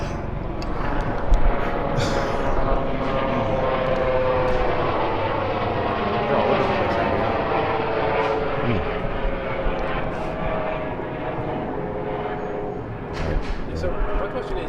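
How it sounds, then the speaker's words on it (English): An aircraft drones steadily in the distance, read as a helicopter passing overhead outdoors during a boxing interview. Its rumbling engine hum runs underneath ongoing conversation throughout. "It's a helicopter."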